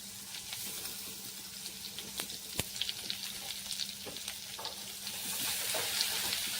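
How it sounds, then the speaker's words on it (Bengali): Grated garlic hits hot oil and fries with a lively, continuous sizzle, sharp pops and scraping stirs scattered through it, growing louder toward the end. "রসুনটা গরম তেলে দিয়ে দিচ্ছি।"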